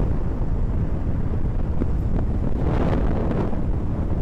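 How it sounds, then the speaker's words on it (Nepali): Cold outdoor wind buffeting the microphone on a road trip from Pokhara toward Parbat, a loud continuous rumbling roar with no speech. "मिठो हावा त चिसो हावा है"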